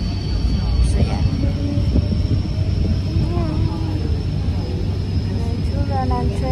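A Hong Kong MTR train rolls along with a steady loud rumble and rising and falling motor whines, heard from inside the carriage while someone talks over it.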